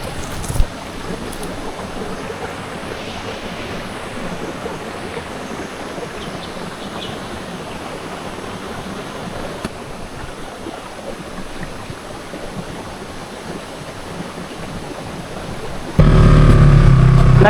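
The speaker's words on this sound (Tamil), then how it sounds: "ஒரு தரமான வாட்டர் ஃபால்ஸு அங்கே தான் உட்காந்துருக்கோம்." Continuous rushing water, a broad steady roar from a nearby waterfall on a mountain trail in Kurangani, unchanging throughout and louder near the end.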